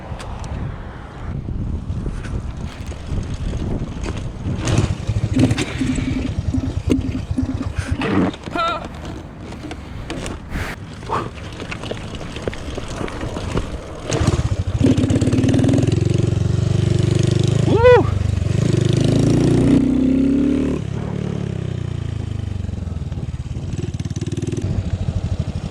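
A Honda Grom motorcycle is kickstarted outdoors with wind buffeting the mic: rough kicks and sputters give way to the small engine catching and revving up and down, loud and close.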